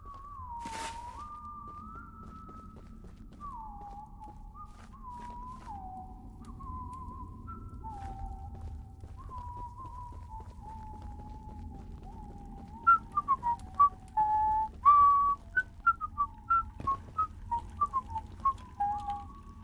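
A game character in Choo-Choo Charles whistles a wandering tune alone, clear, fairly close and moderate in volume, the phrases gliding step by step before breaking into quick chirpy notes near the end.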